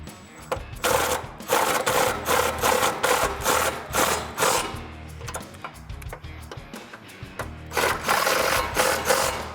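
A ratchet tightens the front bolts on N-Fab wheel-to-wheel nerf step bars fitted to a 2021-2022 Ford Bronco 4-door. Close, loud clicking comes in rapid repeated bursts with short pauses between strokes.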